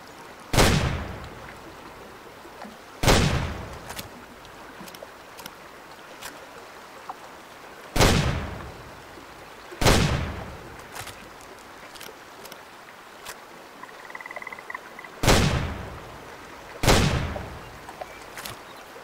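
Shotgun blasts while duck hunting in Way of the Hunter, six sharp loud shots spaced a few seconds apart over quiet outdoor ambience with faint water and bird sounds.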